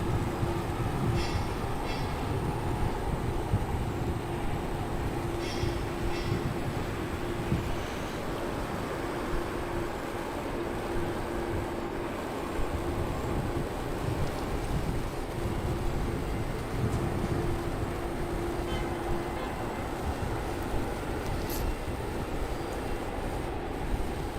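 Qantas A330 airliner and a KC-135 aircraft moving at Brisbane Airport, a continuous broadband rumble and roar heard from a distance, steady for over twenty seconds with no voices.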